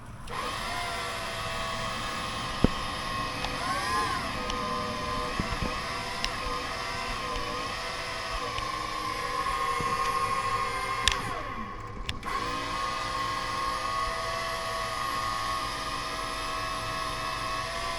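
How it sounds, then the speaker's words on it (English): Flooded elevated work platform with a struggling hydraulic pump running as a steady, strained electric whine and hum throughout, with a few brief clicks and knocks partway through. "I reckon that pump's a bit sad."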